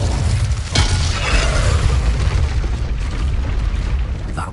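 A fiery Incendio spell blast in the Hogwarts Legacy video game, a sudden loud boom that rolls into a sustained rumbling roar lasting several seconds, with a faint trailing crackle at the end.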